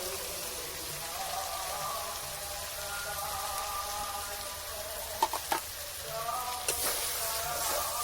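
Goat fat fries with cooked green jackfruit in a pan, giving a soft, steady sizzle with a few sharp pops and stirring clicks, fairly quiet.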